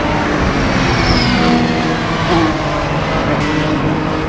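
Porsche GT3 Cup race cars roar past at the Hockenheimring in a loud continuous wash of engine noise and wind, with faint pitch sweeps as cars go by and no talking.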